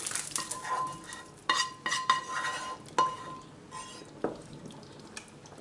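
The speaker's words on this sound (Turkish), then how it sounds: "Çorbayı karıştıralım ve kıvamını kontrol edelim." Lentil noodle soup stirred in a pot with a spoon, giving a run of close scraping and clinking strokes against the metal, loud at first and easing off toward the end, with no talk.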